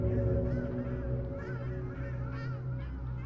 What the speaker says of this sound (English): They sound like crows.